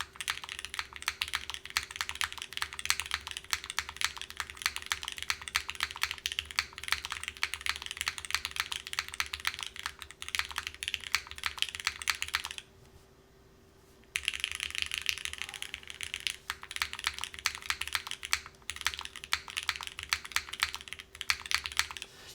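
Rapid, steady typing on a Mod Musing Encore Series 2 mechanical keyboard with an aluminum bottom, crisp close-up keystrokes clattering continuously except for a brief pause midway, with a faint steady hum underneath.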